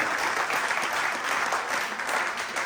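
Theatre audience at a Hindi comedy stage play applauding, dense continuous clapping from a large crowd throughout, fairly loud and even, with no one speaking over it.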